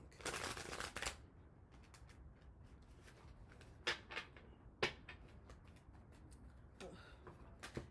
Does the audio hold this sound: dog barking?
no